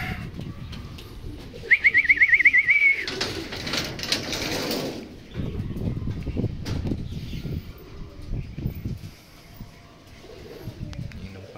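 Pigeons in a loft coo and call near the microphone, with a brief chirping trill and rustling movement around them; the birds sound close and fairly loud, continuing intermittently throughout.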